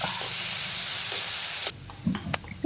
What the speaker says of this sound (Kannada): ಕರಿಬೇವು ಹಾಕಿ ಈರುಳ್ಳಿ ಹಾಕಿ ಚೆನ್ನಾಗಿ ಹುರ್ಕೊಳ್ಬೇಕು